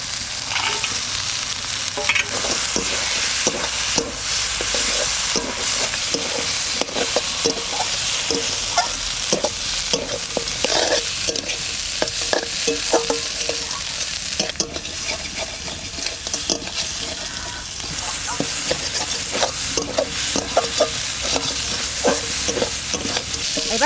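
Crab with potatoes frying in a spice masala sizzles steadily and loudly while a utensil stirs and scrapes the pan in irregular strokes, close up, with no speech.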